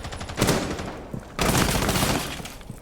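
Bursts of automatic gunfire in Rainbow Six Siege, two loud rapid strings of shots at close range, the second longer, with no voices over them.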